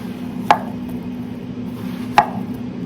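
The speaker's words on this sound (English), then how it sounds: "Now let's slice this plantain." A knife slices through plantain on a cutting board, giving two crisp, separate chops about two seconds apart over a steady low hum, with no talking.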